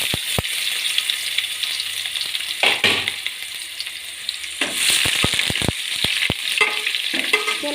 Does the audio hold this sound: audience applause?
no